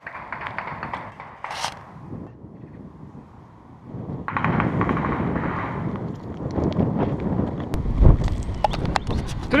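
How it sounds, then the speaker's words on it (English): Scattered sharp cracks of distant gunshots echo from a military training forest, heard over wind and footsteps on an uphill run, with a brief louder bang near the end. "Quite a large amount of gunshots going off in that forest."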